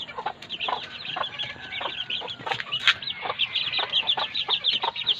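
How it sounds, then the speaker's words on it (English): Several chickens cluck close by in short, repeated bursts, with a busy, overlapping rhythm and occasional sharper squawks. "My chickens."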